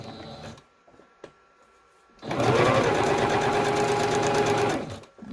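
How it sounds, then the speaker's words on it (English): A sewing machine zigzag-stitches layered fabric strips of mixed textures, running steadily for a few seconds after a quiet pause with faint clicks, its fast mechanical whir loud and close before it stops. "be careful, a little bit slower with the sewing machine"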